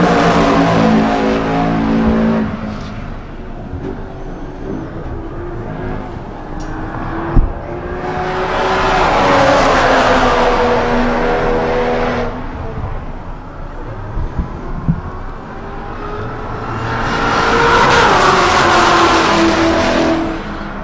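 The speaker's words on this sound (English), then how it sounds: "Clayton Yates in that C7 Z06." Corvette C7 Z06 race car with ZR1 factory rear wing lapping the Buttonwillow track during a time attack final, engine rising and falling through gear changes as it passes, loud then fading and returning.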